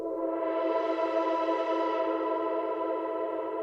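A smeared, spacious synthesizer tone from a Eurorack modular setup hangs in a steady, washy reverb from an Aurora module, layered tones blending into a continuous ambient drone.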